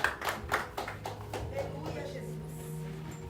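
Church congregation clapping in a burst of several sharp claps at the start that quickly fade into a quieter room tone, with voices faintly present.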